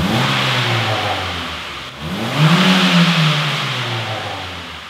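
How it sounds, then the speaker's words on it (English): A Honda Fit with its 1.5 liter engine and completely stock exhaust revs up loudly, climbing and falling in two rises over a steady idle, heard alone up close. "we're gonna rev it up a little bit. This is the completely stock exhaust system,"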